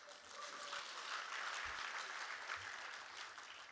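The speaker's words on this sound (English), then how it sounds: "I think you should clap for that." Applause from the audience at a national ICT job fair, a steady wash of clapping held at moderate, fairly distant level for a few seconds with no talk over it.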